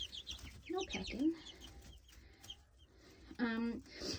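Black Copper Maran chickens cluck and chatter nearby in a coop, several short bursts of clucks spread over a few seconds, with faint background noise between calls.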